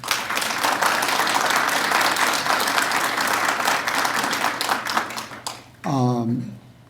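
Audience at an Augusta University honors event for trailblazer Roscoe Williams gives a round of applause for honorees, steady dense clapping that fades out and is followed by a brief voice.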